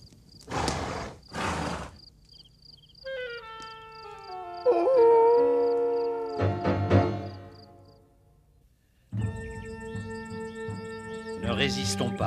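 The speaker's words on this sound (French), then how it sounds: "Des coyotes." Coyotes howl in a desert setting of an animated Western, with drawn-out wavering cries rising and falling in several bursts, separated by footsteps and other noises.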